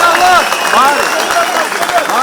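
A crowd at a rally for Ekrem İmamoğlu, visiting a Bosnia-Sandžak association in Pendik, applauds loudly and steadily, with voices and calls mixed through the clapping.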